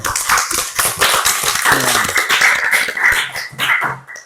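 Applause from a classroom group during a counselling class session, a dense burst of many hands clapping at close range that continues steadily for about four seconds before fading out.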